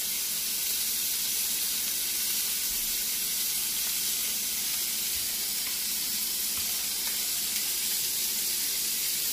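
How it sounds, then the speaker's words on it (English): Water is poured into a pot of Jamaican rice and peas, with beans and their liquid already in it. It makes a continuous, even, fairly quiet hissing rush with no talking over it. "what we're going to do next is, add some water"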